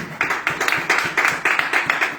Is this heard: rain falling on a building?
no